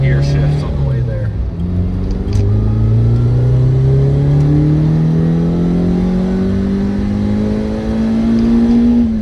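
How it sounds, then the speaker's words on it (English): A sports car's engine revs hard and climbs steadily in pitch, dropping briefly at each gear shift before rising again, heard loudly from inside the car. "I can enjoy a couple gear shifts on the way there."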